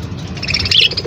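An expensive pet parrot gives close, loud chirping squawks, rising in the middle of a short burst of calls, with no talking over it.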